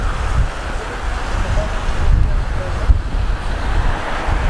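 Wind blows steadily outdoors on a town street in Salisbury, North Carolina, a loud continuous rush buffeting the microphone with low rumbling gusts throughout.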